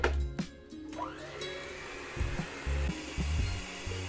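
An electric mixer whirs steadily while beating a cream base for homemade mango ice cream, a continuous mid-loud drone broken by a few heavier bumps and thuds near the bowl.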